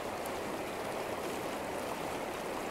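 Flowing water from a stream makes a steady, even rush of broadband splashing, constant and moderately quiet with no voices.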